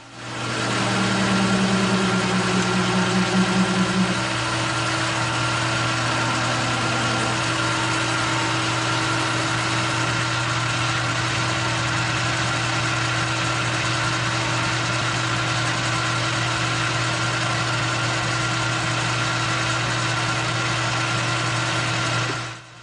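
Steady machine drone of a milling head cutting a six-spline shaft in 1045 steel, loud and continuous for over twenty seconds, with a brief higher tonal whine early on and no talking.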